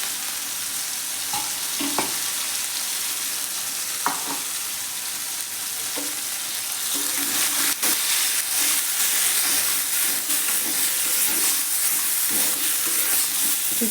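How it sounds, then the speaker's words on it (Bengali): Green pea paste for kachori fries in hot oil, a strong continuous sizzle with occasional stirring scrapes, close and loud, with no talking. "গরম হয়ে গিয়েছে তেল। এরপরে আমি মটরশুঁটি পেস্টটা আমি ভালো করে ভেজে নিচ্ছি।"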